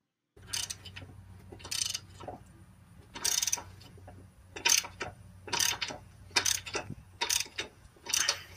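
A ratchet clicks in short repeated bursts as suspension bolts come off a 2005-2010 SVT car during a lowering kit install, with crisp, close ratcheting separated by brief pauses.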